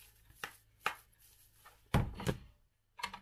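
A knife chops an onion into small pieces on a board: quiet, separate knocks, a few spaced apart and then a closer pair, with no voices.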